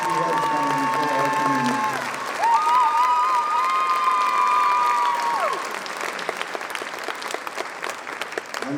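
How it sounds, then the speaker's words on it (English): A banquet audience stands and applauds, sustained clapping mixed with crowd noise and a brief held whoop or cheer over the middle, tapering to scattered claps at the end. "you are going to stand up and give her a round of applause for the wonderful work that she has done"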